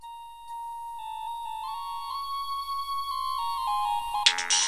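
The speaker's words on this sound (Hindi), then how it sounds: "फोन आ गया शेख जी। रिसीव करो।" A phone rings with a bright electronic melodic ringtone, clear and close in a quiet room, stepping through rising tones before a harsher burst at the end.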